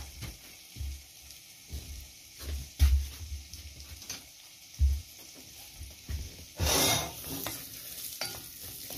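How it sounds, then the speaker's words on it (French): Lardons and onions sizzle gently in a frying pan while a utensil stirs them, giving intermittent scraping knocks against the pan over a soft, steady frying hiss. "Et on va venir remuer un petit peu tout ça"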